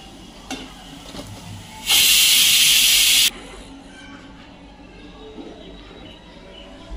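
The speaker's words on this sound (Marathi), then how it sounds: "आता चांगलं खरपूस भाजून घ्यायचं तेलात, म्हणजे चांगलं लागते कोबी मंचुरी." Cabbage manchurian fries in hot oil, giving one loud, close sizzling burst lasting about a second and a half that cuts off sharply, with faint clinks and a quiet background before and after.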